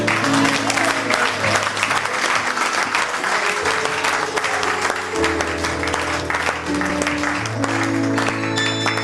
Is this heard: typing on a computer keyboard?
no